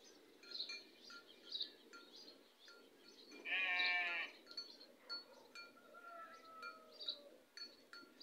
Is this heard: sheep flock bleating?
yes